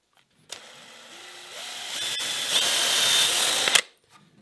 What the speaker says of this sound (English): Just drilling a hole on either side.